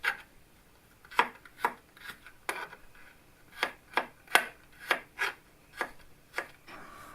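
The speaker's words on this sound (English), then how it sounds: "I'm just simply slicing them as thin as I can" A knife slices fresh garlic cloves as thinly as possible on a board, giving a dozen crisp, separate cuts in an uneven rhythm, close and clear against quiet.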